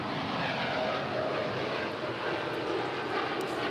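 An airplane takes off at LAX, its engines a steady, loud, broadband roar that holds evenly throughout with no voices.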